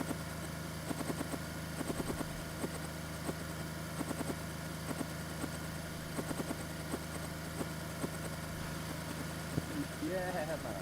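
Helicopter in a video game, a steady low rotor and engine drone running under ongoing talk, moderately close and continuous.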